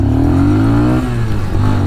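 A QJ Motor SRV 200 motorcycle accelerates hard at full throttle, its engine loud and close with a rising pitch, briefly dipping at a gear change before climbing again.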